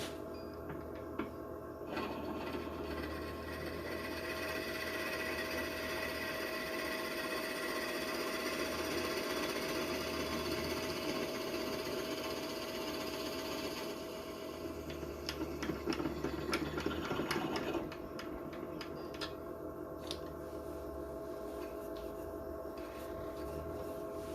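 A wood lathe turning cherry wood at a slow speed of about 500 RPM gives a steady, continuous mechanical whir and rattle that stays close and even throughout, with a brief rougher patch partway through.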